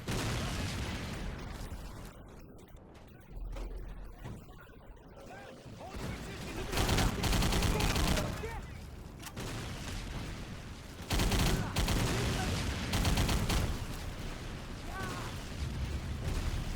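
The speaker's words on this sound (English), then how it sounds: "Getting in some headshots feels so satisfying to take out 5 enemies with 1 clip." Video game gunfire as a player shoots enemies, with bursts of rapid shots and loud blasts rising and falling against a noisy game soundtrack, heaviest in several dense stretches.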